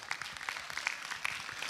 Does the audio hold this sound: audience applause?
yes